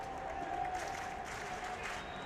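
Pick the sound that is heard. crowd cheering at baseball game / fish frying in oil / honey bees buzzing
crowd cheering at baseball game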